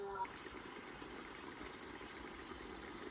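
Water pours in a steady, faint gush that continues for a few seconds without a break.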